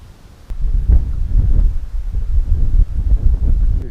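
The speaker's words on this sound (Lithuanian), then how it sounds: "Vėjas didelis" Strong wind buffets the microphone on an open-air pike-fishing outing, a loud, low, rumbling roar that gusts unevenly and continuously, with no voices.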